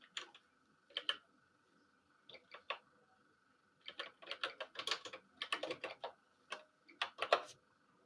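Keys clatter on a computer keyboard in irregular bursts of quick taps with short pauses between, fairly close over a faint steady hum, with no talking.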